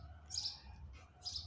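Sparrows chirp in two short bright bursts over a low background hum, faint and at a distance.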